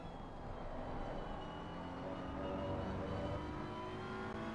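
A race car engine in Assetto Corsa Competizione during a night race at Monza drones steadily at moderate volume, with no pauses and no talk over it.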